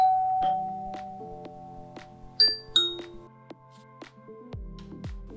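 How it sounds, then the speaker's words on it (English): A doorbell rings with a two-tone electronic chime, followed by softer tinkling tones and a low electronic hum. "set it up to alert you when someone rings a doorbell"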